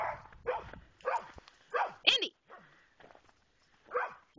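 Dogs bark outdoors in a run of sharp, loud barks spaced about half a second apart, with a person calling out briefly between them.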